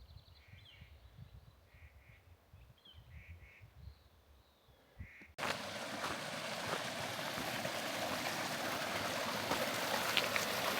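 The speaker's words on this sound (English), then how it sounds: "this is that little creek I was mentioning earlier. Chama.Leaving Creek. It's well flowing, look, lovely water." A small creek flows steadily near Chama in northern New Mexico, a broad continuous rushing that starts abruptly partway through and holds alone, after a quieter stretch with distant crow caws.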